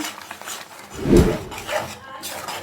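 Semolina being stirred in a pan for rava kichadi, with soft scraping and rubbing of a spoon against the metal pan and one heavier knock in the middle, close and fairly quiet.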